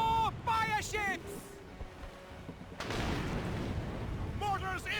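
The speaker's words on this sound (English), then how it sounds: "Mortars incoming, Shay!" A mortar barrage strikes during a naval battle in Assassin's Creed Rogue. A heavy boom erupts midway and gives way to a sustained rumbling roar, with shouted voices before and after.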